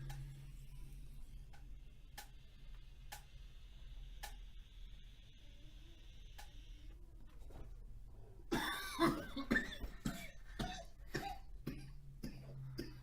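Coughing after a large vape inhale during a cloud competition, a burst of harsh coughs near the end following quieter stretches with faint ticking, close to the microphone.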